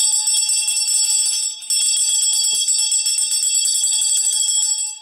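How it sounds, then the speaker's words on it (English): A bell rings steadily and bright throughout, its sustained shimmering tone with a brief dip midway, loud and close with no talk. "I need to ring this bell."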